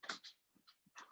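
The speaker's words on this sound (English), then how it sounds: "Puppy dog." A puppy pants indoors in a short run of quick, close breaths with brief pauses between the bursts, and no one speaks.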